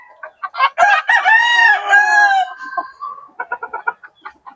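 A fighting rooster on a small farm crows loudly and close by, one long drawn-out cock-a-doodle-doo framed by short clucks before and after.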